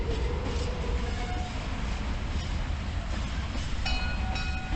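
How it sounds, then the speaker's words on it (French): A train in the video game Mad City rolls past with a dense, steady rumbling clatter, loud and continuous over the whole stretch, with faint metallic squeals toward the end and no talking. "Le train il fait un peu beaucoup de bruit."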